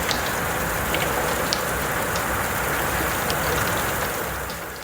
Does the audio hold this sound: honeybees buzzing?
no